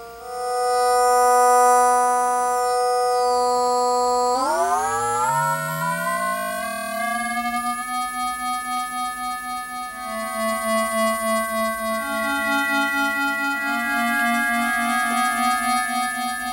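Hydrasynth synthesizer playing an FM patch built on a Yamaha-style algorithm: a loud, steady bright harmonic tone that sweeps upward into a sustained chord with a gentle wobbling pulse, no voices.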